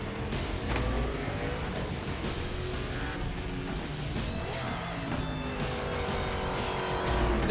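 A stock car in the iRacing sim spinning out: steady engine drone with tire squeal and skidding sweeps, occasional sharp knocks, and a harder crunch at the very end, all at moderate level.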